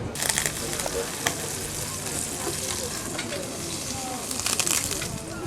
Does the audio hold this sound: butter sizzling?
yes